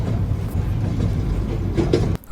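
Passenger train running on rails, a steady low rumble and rattle from inside the carriage with faint rhythmic clatter, cut off abruptly at the end.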